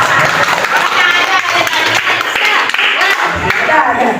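A group of people at a school planning session claps hands, a dense, uneven patter of applause running throughout with voices talking and calling out over it.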